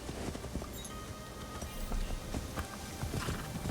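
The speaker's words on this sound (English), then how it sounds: "back on the horse we go." Horse hooves clip-clop steadily in the Assassin's Creed Shadows video game as the mount travels, a continuous close rhythmic clatter over a dense, rain-like background wash.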